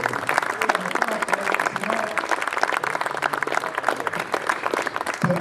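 An audience at an evening cultural book presentation breaks into sustained applause, dense and even clapping from a crowd of many hands lasting several seconds, with no talk over it.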